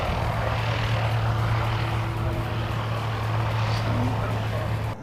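Jetstar flight 273, Hamilton to Christchurch, at the airport: a steady, loud aircraft engine drone that holds evenly throughout, with possible voices underneath.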